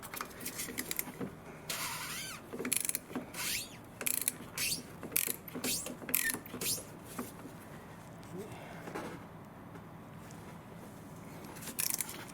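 Oil filter being unscrewed on a 2016 Mercedes GLA200 petrol, heard as a series of close, sharp ratcheting clicks and scraping mechanical bursts in an irregular rhythm over about twelve seconds.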